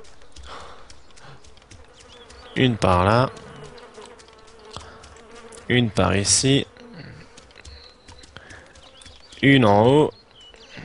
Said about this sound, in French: Ça fait un bruit d'avion tellement il y a de mouches.